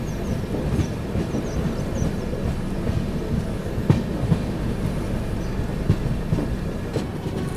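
Steady rumble of the Suhaildev Superfast Express from inside a First AC coach, wheels rolling over the rails with occasional clicks and clunks, a constant close-up ride noise throughout with no talking.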